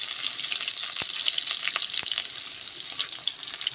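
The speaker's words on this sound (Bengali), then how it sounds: "এবার আমি ফোড়নে দিয়ে দিচ্ছি পেঁয়াজ কুচি, দিয়ে দেবো গোটা জিরে" Chopped onion and whole cumin seeds hit hot oil in a pan, giving a loud, continuous close hiss of frying with a couple of faint knocks and no voices.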